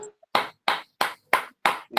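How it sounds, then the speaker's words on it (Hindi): Hands clap in a steady rhythm during a group yoga exercise: six sharp, loud, evenly spaced claps about a third of a second apart, with a short faint click before them. "ताली बजाएंगे, ठीक है,"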